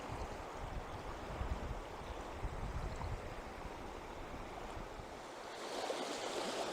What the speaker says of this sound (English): because of the waves on the water here